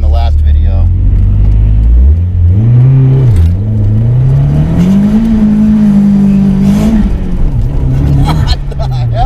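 An SR20DET-swapped Nissan 240sx drift car pulls hard on boost, its engine note climbing and holding loud and close with a whooshing rush, while someone talks over it.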